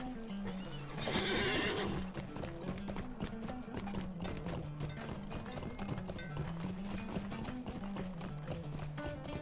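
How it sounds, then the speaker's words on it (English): Lord of the Rings Online horse hooves clip-clop in a steady galloping rhythm, with a neigh early on, all over a continuous backdrop of sound effects and music. "I can ride my horse there."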